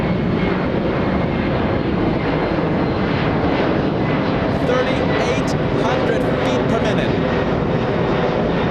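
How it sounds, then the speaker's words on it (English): A Boeing 767 airliner climbs steeply out of Los Angeles International Airport, its engines giving a loud, continuous roar under a person's ongoing commentary. "The 767, the one that we're seeing right now"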